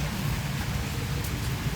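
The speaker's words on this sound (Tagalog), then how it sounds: "Medyo malakas pa yung mga ulan mga kaagapay." Heavy rain pours steadily in a stretch of bad weather outdoors, giving a dense, even hiss with no gaps and no one talking over it.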